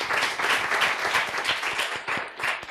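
Audience applause at a French-language showcase event, a steady wash of many hands clapping close by, with dense overlapping claps and individual hand claps standing out through the roar.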